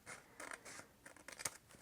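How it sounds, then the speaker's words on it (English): Scissors snip paper for a handmade mini album, several quick crisp cuts in an uneven rhythm, close and clear with no talking. "So we're just gonna snip it down a little bit."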